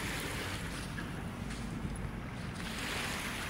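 Seaside wind and surf at Manila Bay at low tide: a constant broad wash of waves with microphone wind rumble, steady and unbroken, no voices.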